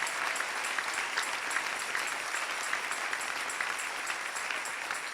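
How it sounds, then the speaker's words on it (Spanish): A church congregation applauds the King during a service, a dense, steady round of clapping from many hands that runs unbroken throughout. "Dale ese aplauso al Rey."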